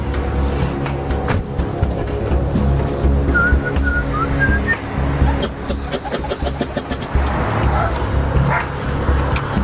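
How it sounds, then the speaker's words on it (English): A dog barks repeatedly at a distance behind a front door, its sharp yaps scattered across the scene, with people talking, a whistle and a nearby car engine in the background. "I can hear a dog"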